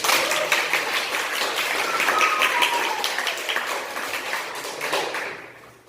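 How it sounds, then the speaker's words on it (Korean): A church audience applauds their pastor, dense steady clapping that stays strong for several seconds, then tapers and fades out near the end, with a faint whistle partway through. "우리 목사님께 박수를 한번 칩니다"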